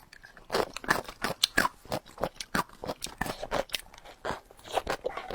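Crisp pickled vegetables are crunched close to the mouth, giving a rapid, irregular series of loud, wet crunches and chewing bites that repeat throughout.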